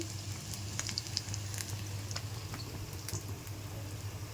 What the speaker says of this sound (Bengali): এখানে মাছ ভাজাও হচ্ছে